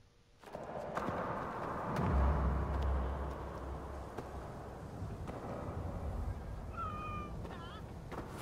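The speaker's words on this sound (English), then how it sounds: "There's a random cat walking through the violence." A cat in the Assassin's Creed Origins video game gives a couple of short, rising meows near the end, heard over busy game ambience with clopping hooves and background rumble.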